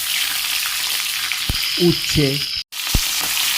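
Bitter gourd, potato, taro, onion and jackfruit seeds sizzle steadily in mustard-style oil left from frying prawns, seasoned with five-spice and green chilli, a close continuous frying hiss with a few stirring knocks and a brief spoken word.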